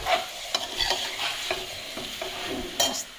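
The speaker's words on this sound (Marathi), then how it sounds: "चला आता हलक्या हाताने परतवून घेते नाही तर तुकड्या विरघळायच्या" Dried fish in red masala stir-fried in a hot pan, with a spoon scraping and turning the pieces in repeated strokes over a steady close sizzle.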